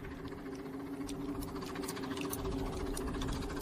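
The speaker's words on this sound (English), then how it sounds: "It's a steam engine and travelling at speed." A steam locomotive travels at speed as a radio drama sound effect. It is a continuous, fairly faint mechanical rumble with a steady hum and a fast chattering rhythm, heard without any voices.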